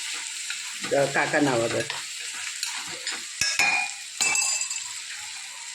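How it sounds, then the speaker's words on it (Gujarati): Vadi dropped into a hot pan and roasting, with a loud burst of frying sizzle followed by scattered stirring scrapes and clinks of a utensil against the pan. "હવે જે આપણે વડી શેકીએ નાખી દઈએ."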